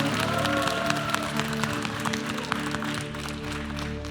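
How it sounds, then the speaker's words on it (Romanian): A church congregation applauding during a baptism service, steady clapping throughout at a moderate level over a sustained tonal hum. "Hai să-l aplaudăm."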